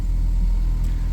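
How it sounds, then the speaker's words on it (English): A Ford Focus engine idling after being brought back to running, a close, steady low rumble held without a break. "We got the car running."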